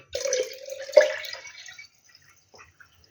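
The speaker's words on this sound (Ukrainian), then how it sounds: "Взяла воду і буду доливати до повної баночки" Water is poured into a glass jar of pickled tomatoes in a home kitchen, giving a splashing, gurgling pour for almost two seconds, followed by a few faint drips in near silence.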